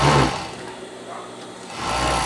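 A sewing machine backstitches dog-sweatshirt fleece in a short whirring burst, loud and close, easing briefly in the middle before picking back up to full speed.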